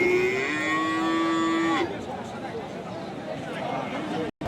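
A dairy cow at a cattle market lets out one long, loud, close moo that falls slightly in pitch before ending, followed by crowd noise and people talking.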